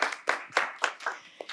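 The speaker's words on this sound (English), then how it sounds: "Another round of applause for all of our presenters." Audience applause for presenters at the close of a rural homelessness collaboration session, heard as a few sparse, separate claps in a quiet room rather than a full ovation.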